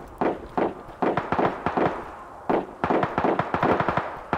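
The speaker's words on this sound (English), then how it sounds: "Someone's shooting at you." Rapid gunfire in the RoE video game crackles in quick irregular bursts, loud and close, with short pauses between volleys and no talking.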